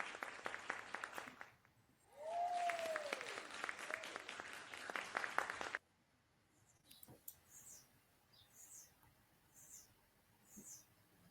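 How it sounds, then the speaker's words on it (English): A round of applause for a podcast guest, soft dense clapping from a small audience that swells for about four seconds, then cuts off into quiet room sound with faint scattered noises. "Let's give her a round of applause, y'all."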